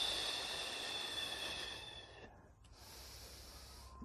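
A slow, breathy exhale during a gentle gym exercise, heard close and soft as an airy hiss that fades after a couple of seconds into a quieter background.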